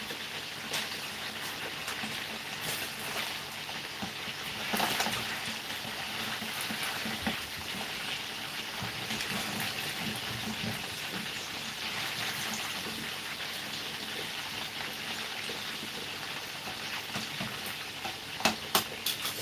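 Food frying in a plain, non-stick-free pot while being stirred, giving a continuous crackling sizzle with scraping stir strokes and a few sharper clinks near the end, steady and close.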